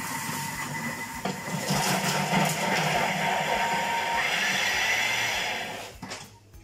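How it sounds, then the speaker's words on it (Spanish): A kitchen blender whirs as it chops croissants into crumbs, a steady mechanical drone lasting several seconds that cuts off near the end. "ponéis en la batidora un momentito para que se rompan"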